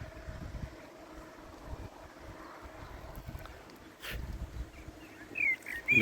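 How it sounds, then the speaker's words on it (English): Wind buffeting a microphone outdoors on a chilly evening at a carp fishing lake, low rumbling gusts that swell louder toward the end, with faint water and background noise. "A bit windy."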